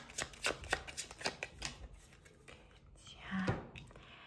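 Tarot cards are shuffled and drawn, making quick, crisp riffling bursts up close, then a softer slide and flick. A quiet voice is faintly present.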